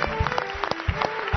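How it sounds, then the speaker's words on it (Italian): A studio audience on an Italian live television show claps in a brief burst of distinct, fairly close hand claps to greet guest Vincenzo Salemme, with a soft musical tone beneath. "ospite Vincenzo Salemme, un applauso"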